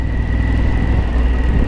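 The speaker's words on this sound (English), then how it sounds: "This is the new Revolution X engine." A Harley-Davidson Pan America with the 1250cc Revolution X engine running in sixth gear, a loud, steady low rumble of engine and wind noise heard up close without talk.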